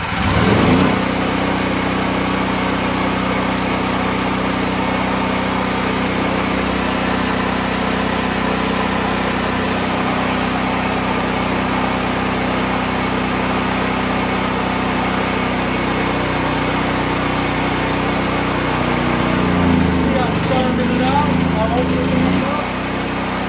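A Westinghouse WGen 7500/9500 watt generator converted from gas to propane starts up and settles into a steady, loud engine drone, with a brief rise in rattle near the end.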